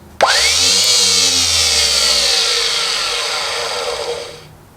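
A newly installed boat anchor windlass motor runs on test, starting with a sharp jolt and rising whine, holding a loud steady spin for about four seconds, then dying away.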